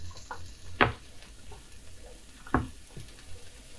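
Peppers dropped into a hot, high-heat stir fry pan for a shrimp stir fry, giving two sharp hits about two seconds apart over a quiet, faint low sizzle.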